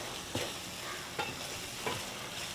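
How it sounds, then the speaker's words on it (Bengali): Thick spice paste sizzles steadily in a pan with sugar added, a few scraping stirs of a spoon cutting through at regular intervals, close and fairly quiet with no voices. "মশলাটা কষানো হয়ে গেছে প্রায়।"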